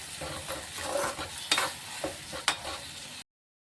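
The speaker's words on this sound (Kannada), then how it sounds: "ಇದು ಇವಾಗ ಫಸ್ಟ್ ತಿರುವ ನೋಡಿರಿ" A ground onion-tomato masala being stirred in a pan while preparing egg sukka, with a steady wet sizzle and a few sharper scrapes of the spoon against the pan, heard close and alone.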